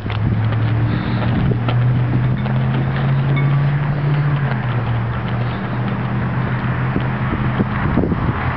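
Strong wind blows outdoors near a National Guard armory in Caldwell, a loud constant roar and buffeting across the microphone with a low droning hum underneath.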